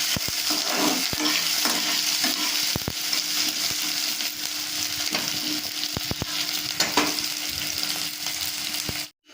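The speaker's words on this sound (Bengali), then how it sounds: "পেঁয়াজটা আমি একটু লাল লাল করে ভেজে নিয়েছি" Onions fry in hot oil and are stirred, giving a loud, continuous sizzle close by, broken by sharp spatula clicks and scrapes against the pan.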